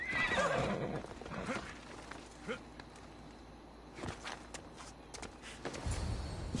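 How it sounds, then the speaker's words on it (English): A horse in Assassin's Creed Odyssey gives a loud whinny up front, then hooves clip-clop in a steady walk against a quiet game background, with a few louder thuds near the end. "Good horsey. Now go eat some hay."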